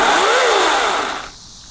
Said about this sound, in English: we gotta cut these edges off.